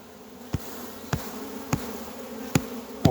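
Honeybees hum steadily around an open hive during a swarm inspection, a close, continuous buzz with a few sharp knocks or taps recurring roughly every half second, no talk.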